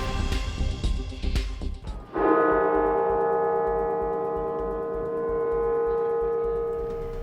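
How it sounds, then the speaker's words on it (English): The bell of Washington National Cathedral sounds one deep strike after some clattering noise, then rings on in a long, steady humming tone that slowly fades. "Washington National Cathedral rings its bell 200 times at 5 p.m. on Sunday"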